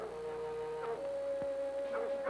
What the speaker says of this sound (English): Duke's dog's driving that old bear right into our laps.